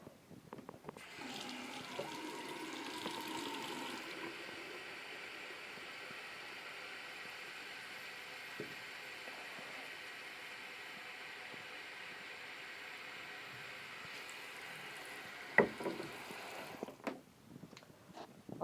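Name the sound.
water pouring into a jar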